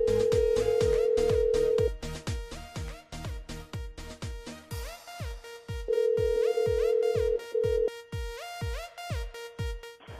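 A telephone rings repeatedly on a radio station line while calling a listener, with rhythmic electronic chirps and tones cycling over ten seconds, clear and uninterrupted by talk.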